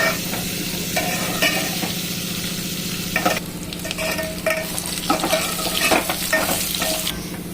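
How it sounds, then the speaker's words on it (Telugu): Dried red chillies, curry leaves and onion sputter in a hot oil tempering for pappu charu, a continuous crackling sizzle marked by several louder bursts and the clatter of stirring, without any talk. "ఎండుమిర్చి కొంచెం కరివేపాకు వేసి బాగా ఎర్రగా వేయించుకోవాలి"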